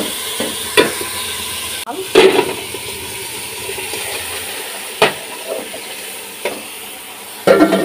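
Rice and lentils for khichuri fry and sizzle in a pot while a spoon stirs and scrapes them in several distinct strokes, the sizzle holding steady beneath the stirring.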